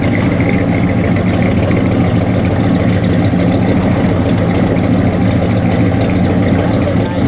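Chopped 1951 Mercury custom car engine running loud and close, a steady heavy rumble that rises in a rev, continuous without talk.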